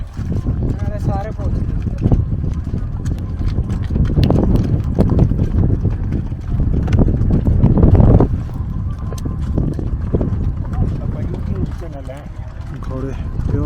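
Horses clip-clop over stones on the road to the Amarnath pilgrimage, their hooves a steady run of sharp taps set against wind and rumbling background noise, with people talking now and then.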